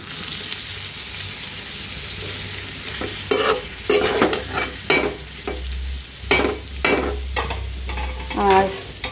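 A potato and vegetable bhaji frying in a pan and being stirred, with a continuous sizzle broken by loud scraping strokes of a spatula in irregular bursts, close up and without speech.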